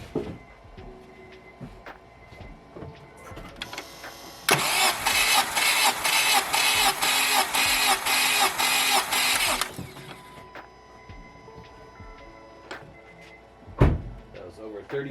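Starter cranking the engine of a 2007 Honda Civic Hybrid with dual spark plugs during a compression test, a steady rapid chugging churn lasting about five seconds, close and loud, set between quieter workshop clicks and knocks.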